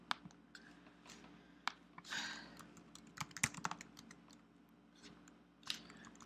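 Typing on a computer keyboard at a desk during a Weblogic 10.3.6 software install, a quiet, close run of irregular key clicks with short pauses and a brief rustle midway.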